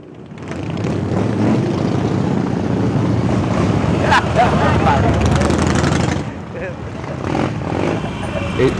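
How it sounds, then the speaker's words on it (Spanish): A caravan of Harley-Davidson motorcycles at a riders' gathering in Colombia, engines rumbling steadily and loudly for several seconds with a brief dip near the end, mixed with outdoor wind and crowd noise. "Escuchemos el ruido de los motores también."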